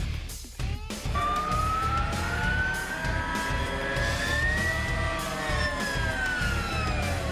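A high electric whine from a Harley-Davidson electric motorcycle, modelled on a jet turbine, climbs steadily in pitch after a short thump, like a motor spinning up, sustained over a low rumbling drone.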